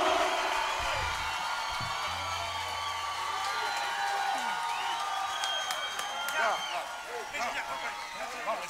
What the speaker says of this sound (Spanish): Fuerte el aplauso para Silvio Mora.